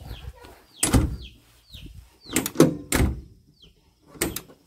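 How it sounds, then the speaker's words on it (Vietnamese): Cab door of a 2008 Hitachi Zaxis 75US excavator swings shut with a couple of light thuds and latch clicks, close by, amid faint chirping birds and short bursts of talk. "Mình sẽ đóng cửa cho anh em xem,"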